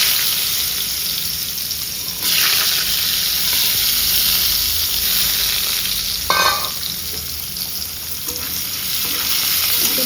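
Small diced potatoes hit hot oil for deep frying, giving a loud, steady, close crackling sizzle that swells when they drop in, with a brief scrape of stirring midway.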